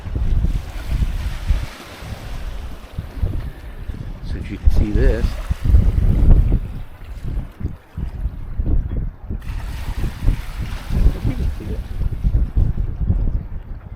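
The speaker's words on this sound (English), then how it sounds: "Ooh, yeah, because hear that waves." Lake Huron waves lap and splash against harbor rocks in uneven washes during rain, with wind buffeting the microphone and a person talking briefly over them.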